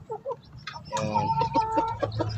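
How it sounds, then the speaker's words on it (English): A Barred Plymouth Rock rooster on a free-range chicken farm clucks close by in a continuous, throaty run of calls, with faint bits of speech at the start. "So, dito yung ating BPR na rooster."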